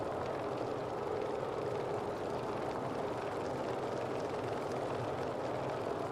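Grumman F3F-2 radial-engine biplane in Microsoft Flight Simulator 2020, a steady, throaty, droning engine note running continuously and fairly loud with no pauses, no voices over it.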